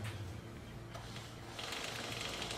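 A fast, steady whirring rattle from the chain of a Yamaha eFZR electric motorcycle turning, faint and close, with a brighter hiss joining partway through.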